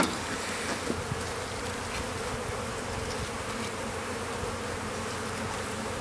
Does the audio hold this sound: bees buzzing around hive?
yes